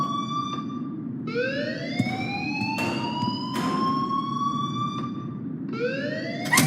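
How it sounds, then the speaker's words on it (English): Alarm ringing in the Life is Strange video game, a loud wailing siren-like tone sweeping up and down repeatedly and continuously over a steady background hum, with no talking. "please turn off that alarm"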